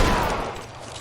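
A short burst of overlapping gunfire from a shootout in L.A. Noire, loud at the start and then trailing off quickly within about a second.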